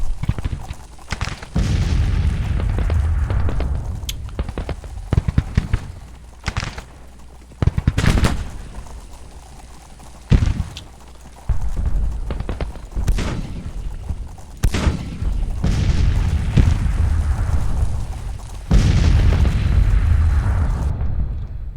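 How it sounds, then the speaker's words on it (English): Artillery and gunfire in the Civil War strategy video game Grand Tactician, Battle of Shiloh: repeated loud booming blasts and sharp cracks at irregular intervals over a continuous low rumble of battle. "Looks like you're shooting their artillery."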